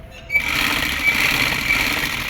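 Sewing machine stitching a seam on palazzo pants, starting after a brief pause and then running in a steady, fast, close mechanical whir with no talk over it.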